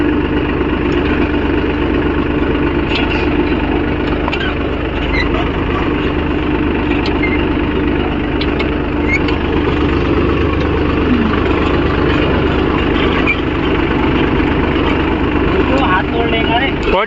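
A Mahindra tractor with a plough implement runs steadily, its engine a constant loud drone and rumble, while someone talks over it.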